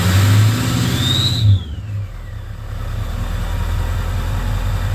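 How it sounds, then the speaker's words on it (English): A 2003 Ford 6.0 Powerstroke diesel runs rough with a misfire, a rev that whines up and falls back, then settles into an uneven, loping idle up close. "But it's definitely misfiring,"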